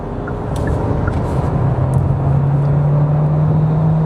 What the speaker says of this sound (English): let's place the Sportage in sport mode and see if we can get past this truck here